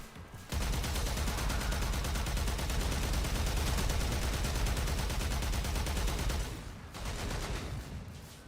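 An arch gun in the game Warframe fires a loud, sustained, rapid burst for about six seconds, cuts out briefly, then fires again in a shorter burst.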